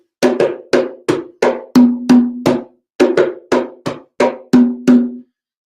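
A hand drum plays part of the Mutwashi rhythm, with crisp, close, even strokes in two repeating phrases of about five hits each, separated by a short pause and heard alone.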